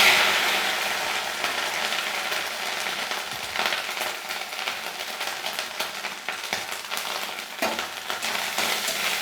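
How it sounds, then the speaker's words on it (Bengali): Grated coconut frying in a wok with nigella seeds and dried red chillies, a steady bright sizzle with stirring scrapes, close and fairly loud throughout with no talking. "এবার আমি নারকেলটাকে একটু ভাজা করে নিই"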